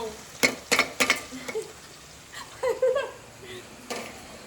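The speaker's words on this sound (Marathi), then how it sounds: "कांदा घातलाय आणि त्याच्यानंतर तो कांदा भाजलाय" An onion stirred in a frying pan gives off irregular scraping clatters and soft sizzling, with a few louder utensil knocks early and quieter stirring later, close and alone without speech.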